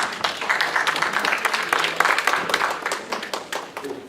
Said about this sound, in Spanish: Los invito a que lo recibamos con un caluroso aplauso